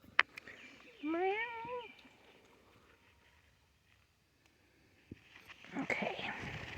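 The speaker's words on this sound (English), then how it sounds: "Got a cat crying." A cat gives one clear, drawn-out meow nearby, followed by a quiet pause, a soft knock and some faint rustling at the end.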